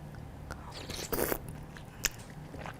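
Close, crisp ASMR biting and chewing of Thai som tam papaya salad with salmon: a few sharp crunchy bites and moist chewing, with one loud crunch near the end and no talking.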